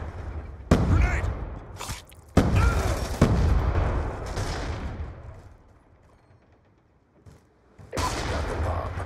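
In Black Ops 2 Search and Destroy, loud close bursts of gunfire and a grenade blast crack out in several separate volleys, with a quieter lull before another burst near the end.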